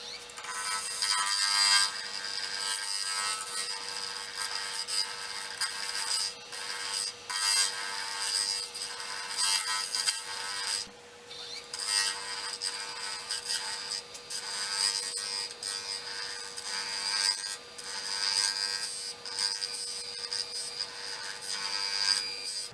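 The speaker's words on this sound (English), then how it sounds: "I'm gonna take this chippy edge off with a negative rake" A negative rake scraper works the chippy edge of a walnut bowl spinning on a lathe, giving a continuous close scraping hiss with small fluctuations and short dips, plus a steady tonal hum underneath and no speech.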